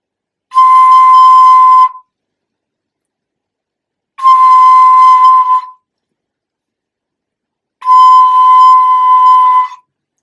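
Three steady, clear tones from a Nuvo Toot flute blown gently across the hole, each note held about one and a half seconds with equal pauses between, close and fairly loud with a breathy edge.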